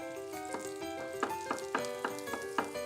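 Mushrooms and onions frying in a pan, a steady sizzle with a regular run of stirring knocks and scrapes, close and fairly loud over background music.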